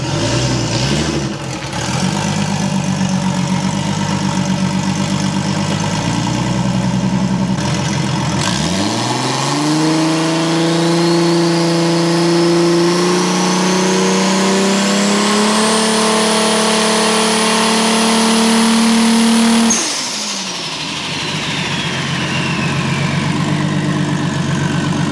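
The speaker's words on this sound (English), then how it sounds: "I'm going to get off the nitrous before the rev limiter, and I'm going to make the rev limiter higher and see what happens." A big-turbo Toyota Supra on nitrous idles loudly, then revs hard and climbs steadily to the rev limiter, holds there with a rising whine, and drops back to idle. It is close and powerful, with no speech.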